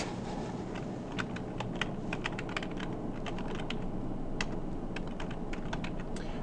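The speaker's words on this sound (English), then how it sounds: "I'll just type that right" Fast typing on a computer keyboard, with crisp key clicks in irregular bursts close to the microphone over a steady low room hum, and no voices.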